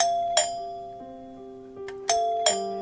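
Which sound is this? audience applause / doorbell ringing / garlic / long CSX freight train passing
doorbell ringing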